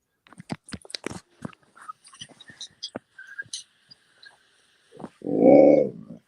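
A pet dog asking for a biscuit, giving scattered short clicks, snuffles and chewing noises before a loud, close whine or bark near the end.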